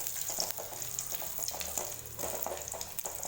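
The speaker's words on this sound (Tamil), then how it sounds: "கருவேப்பிலை எண்ணெய் நல்லா வதங்கிடுச்சு" Curry leaves and two dried red chillies fry in oil over a low flame for a tomato-free rasam tempering, giving a steady close sizzle and crackle with scattered small pops throughout.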